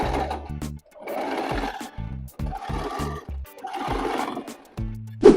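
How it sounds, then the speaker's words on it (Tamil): A sewing machine sews a straight stitch a quarter inch in from the edge on the wrong side of fabric, running in several loud, whirring bursts separated by pauses and low mechanical clunks, close up with no speech. "இப்போ இந்த ராங் சைட் ஆஃப் த ஃபேப்ரிக்கில் 1/4 இன்ச்சில் ஸ்ட்ரைட் ஸ்டிச் கொடுக்க போகிறோம்"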